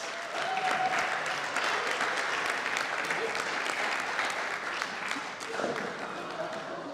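Sustained applause from an awards ceremony crowd greeting the winning head coach of the Kissimmee Lambs, a steady dense wash of clapping lasting several seconds with faint voices mixed in.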